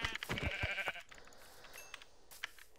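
Sheep bleating in the Minecraft video game, a loud wavering bleat in the first second followed by quieter game ambience and a couple of faint later calls.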